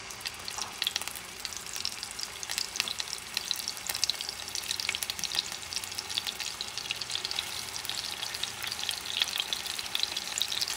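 Meatballs fry in hot oil in a pan with a steady, close crackling sizzle that goes on throughout. No voices are heard.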